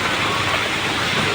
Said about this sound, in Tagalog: Medyo humina na po yung ulan.